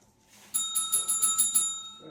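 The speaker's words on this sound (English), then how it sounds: "I'm going to ring their dinner bell" A handheld dinner bell is rung for dogs at feeding time in a home kitchen, giving about seven quick bright metallic rings in a steady rhythm, close and fairly loud, with no talking over it.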